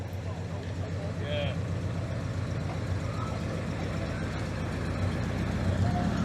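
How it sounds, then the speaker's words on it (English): Ford Torino V8 engine burbling at a classic Ford car show, a steady low rumble running under crowd chatter and other vehicle noise. "the big Torino's having a burble"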